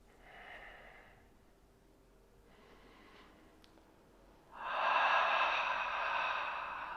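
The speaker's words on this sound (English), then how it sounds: "And breathe here, 3 full breaths." Three slow, deep breaths taken during a standing chest-opening stretch in a work-day mobility break. The first two are soft, airy and close, and the last is a longer, louder exhale, with no talking.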